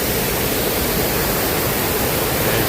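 Waterfall in a storm near Nelson, New Zealand: a steady, dense roar of rushing water, loud and close, unbroken for the whole stretch with no voices.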